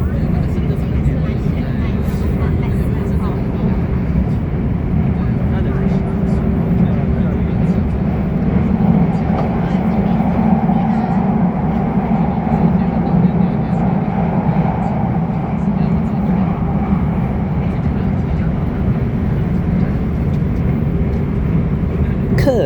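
A crowded Guangzhou Metro Line 3 train runs between stations, giving a continuous low rumble and hum that swells slightly mid-ride before settling, with nobody speaking.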